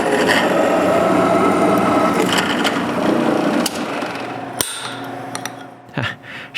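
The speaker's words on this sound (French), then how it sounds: "Il faut y percer les trous pour pouvoir le fixer à l'établi." Drilling holes through a rust-cleaned metal piece for a criss-cross workbench mechanism: a loud, continuous grinding drone for about four seconds, then quieter scattered knocks and clatter as the drill stops.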